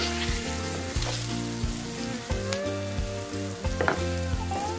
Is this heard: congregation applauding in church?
no